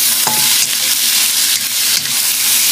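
Squid, blanched beforehand, stir-fried in a hot pan: a loud, close, unbroken sizzle with repeated scraping strokes of a spatula, no voices.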